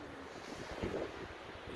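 Wind and surf on the beach at Lido island, a steady broad rush with a slight swell near the middle, no voices.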